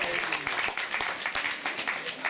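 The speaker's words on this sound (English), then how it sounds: "giving a huge cheer round of applause to Ibrahim for putting this event together" Applause with some cheering in a room at a Labour Party reception held in Parliament, honouring the event organiser; steady clapping across the whole stretch with voices mixed in.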